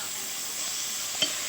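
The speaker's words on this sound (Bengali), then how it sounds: "পেঁয়াজটা ভালো করে ভেজে নেবো, লাল লাল করে" Onions frying in a pan, giving off a steady, even sizzle with a soft hiss and a single faint clink near the end, no voices over it.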